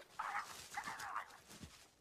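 A puppy character in the Roary the Racing Car train video game gives a short run of whimpers and yappy little barks, close and clear over faint background sound.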